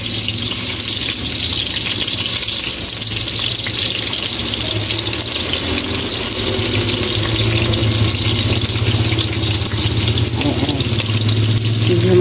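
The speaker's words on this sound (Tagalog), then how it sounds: "matalsik yung mantika." Cooking oil spattering and sizzling in a hot pan while frying, a dense, steady hiss with crackle that runs unbroken at close range, over a low background hum.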